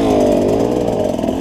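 A Keihin-carbureted Husqvarna dirt bike engine revving loud and close on a trail ride, a sustained buzzing roar that holds steady throughout with no talk.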